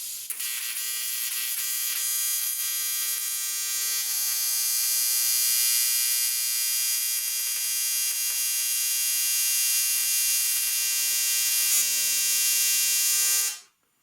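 TIG welding of cast aluminum with a CK torch, a steady high-pitched electric buzz and crackle holding for about thirteen seconds before cutting off abruptly, close and loud.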